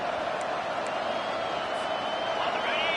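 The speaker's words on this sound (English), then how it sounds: "It is getting loud as this crowd tries to help its defense." A large football stadium crowd roars in a continuous loud wash of cheering and noise to rally the home defense, with a broadcast commentator's voice running over it.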